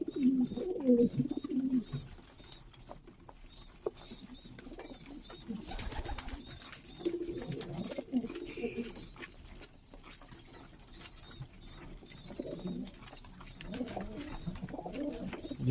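Racing pigeons coo in a pigeon loft, soft low throaty coos coming in several overlapping bouts, close and fairly quiet, with light rustling and pattering of birds moving about and no talking.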